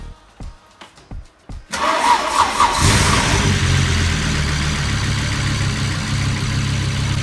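A car engine is cold started: several short cranking bursts, then the engine catches and roars loudly before settling into a rough, steady idle.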